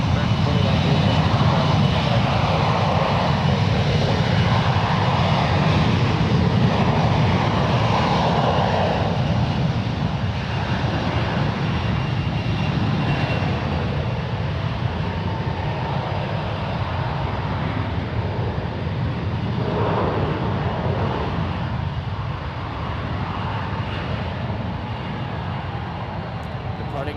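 Skywest Embraer 175 jet taking off from San Francisco International Airport, a loud continuous broadband engine roar that holds steady then eases slightly toward the end, with a voice talking faintly underneath.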